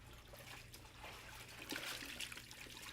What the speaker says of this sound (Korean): 살짝 삶아낸 고기는 찬물에 넣고 박박